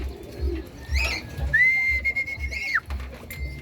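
Rooftop bird calls, credited to a racing pigeon, come as short chirps and then a long sustained whistle-like call that bends down at the end, over a low rumbling background, with no voices.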